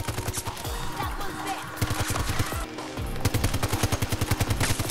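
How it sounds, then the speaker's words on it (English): The RM68 gun firing in a first-person shooter video game: loud, rapid automatic bursts with evenly spaced punchy shots, broken by brief gaps, then a long sustained volley near the end. "This gun is freaking amazing. What's this called? The RM68."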